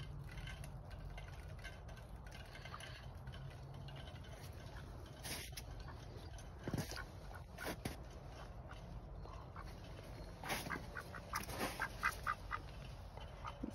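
Several pet ducks quacking quietly around a yard, with scattered short calls that grow a little busier toward the end over a low steady background hum.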